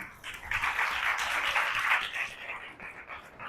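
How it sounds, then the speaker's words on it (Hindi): A congregation claps for a little girl during a Hindi/Urdu Bible sermon, a steady wash of applause swelling through the middle and thinning toward the end, with no talk over it. "बच्ची के लिए तालियां बजा दें।"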